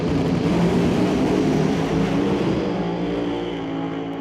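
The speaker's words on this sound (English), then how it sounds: "You heard that thing rev to the moon just as it got to the 330-foot mark." A Pro Mod drag race car at a drag racing event roars loudly and steadily down the track, its engine revving high with tire shake at about the 330-foot mark, the sound continuous and slowly fading toward the end.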